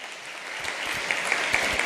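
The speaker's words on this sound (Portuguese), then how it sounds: "Aplauda o nome do Senhor." A church congregation claps together in a dense, continuous wash of applause that is close and moderately loud, with a few sharper claps standing out near the end.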